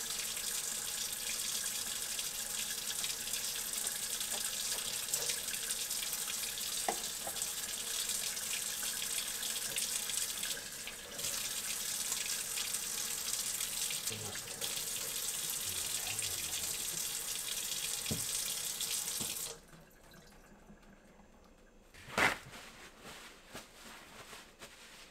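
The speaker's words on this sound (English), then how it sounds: "let's go ahead and go wash our hands" Water runs steadily from a kitchen tap during handwashing, a continuous close hiss that shifts slightly midway and then stops abruptly, leaving quiet handling sounds and a single clunk.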